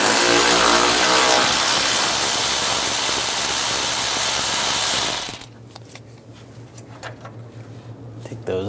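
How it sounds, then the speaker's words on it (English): A power tool with a 10mm socket removes screws from the valance panel of a 2011-2018 Ram 1500, a loud, dense whir for about five seconds that stops abruptly, followed by quieter scattered clicks and handling noise. "Using a 10mm socket, we're going to remove the screws on the corners."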